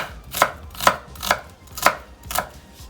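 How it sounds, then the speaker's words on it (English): A knife chops onions on a cutting board for cornbread stuffing, five crisp, evenly spaced strokes about half a second apart, close and clear. "go in and just chop it up really finely."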